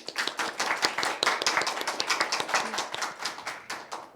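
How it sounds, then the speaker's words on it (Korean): An audience of judges at a legal training lecture claps with an uneven rhythm. The sharp, moderately close applause keeps going throughout. "강의를 박수로 청해 듣도록 하겠습니다"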